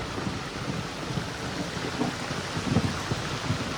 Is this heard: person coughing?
no